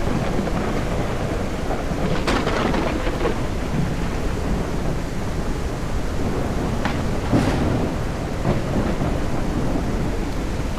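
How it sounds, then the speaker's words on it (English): Thunderstorm in the survival game SurrounDead: steady heavy rain with rolling thunder and sharp cracks, loud and continuous, with no one talking. "Man, this storm."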